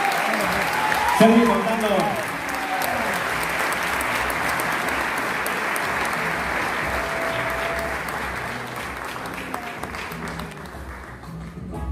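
An audience at the Premios Graffiti award ceremony applauds loudly and steadily, with dense clapping filling the room while people talk over it. A whistle and a few cheers rise near the start.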